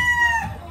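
A chicken being bathed at a farm in Maragondon, Cavite gives a short, loud, close clucking cry that fades quickly.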